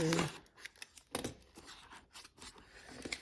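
A box cutter slices through packaging in a few short scraping strokes, faint and close, with some crinkling between cuts.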